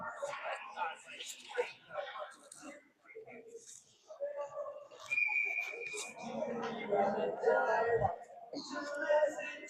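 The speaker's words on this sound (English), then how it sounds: "So we'll have a whistle." A referee's whistle stops play during a Shakopee vs Fargo ice hockey game. It gives a sharp, high, sustained blast mid-clip that cuts through a noisy arena, with a commentator talking throughout.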